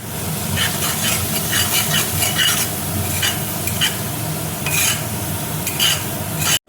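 Spiced masala frying in a pan with a little water just added for a taro (kochu) dish, a steady loud sizzle under repeated scraping stirs, close and continuous with no talking.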